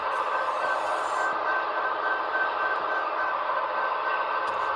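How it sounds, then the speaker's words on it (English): A model train backs slowly into a roundhouse on a Walthers turntable, giving a steady motor whine and hum with a faint high tone, continuous and close, with no talking. "This is what it looks like when you back up a train into a roundhouse."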